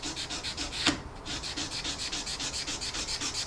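Steady back-and-forth sanding of a metal sheet with 400 grit sandpaper, rhythmic rubbing strokes about five per second, close and even, with one brief sharp scrape early on.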